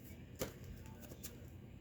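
Cards being shuffled by hand, a quick run of soft riffling flicks and taps, close and quiet with no talking.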